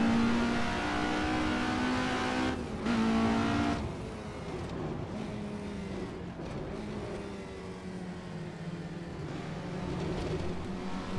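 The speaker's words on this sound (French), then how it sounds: "en pleine accélération, le son de cette auto est quand même extrêmement plaisant" An Alfa Romeo Giulia GTA in the Assetto Corsa racing game accelerating hard, a loud continuous engine drone climbing through gears with brief shift dips, heard alone without voices.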